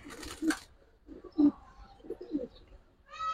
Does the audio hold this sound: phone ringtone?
no